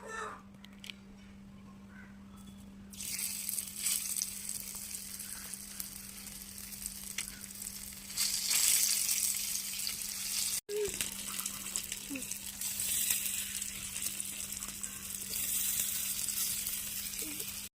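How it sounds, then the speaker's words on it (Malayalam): Fish sizzling in hot oil in a tiny miniature pan, a steady bright crackle that swells and thickens partway through, with a constant low hum beneath and a brief clatter near the middle. "മീൻ നമുക്ക് പൊരിക്കാം."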